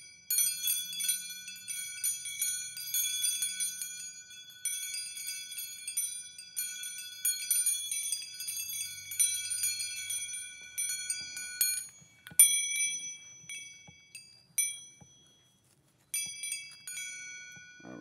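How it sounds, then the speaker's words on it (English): Wind-chime-style bells ring with bright metallic tones, densely overlapping and shimmering at first, then sounding as sparser single strikes that each ring out and decay before the next. "I'm going to try to do one bell at a time."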